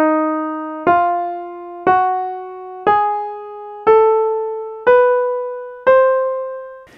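An octatonic scale rises one note at a time in seven evenly spaced, plucked or struck tones, alternating whole tones and semitones, each note decaying before the next.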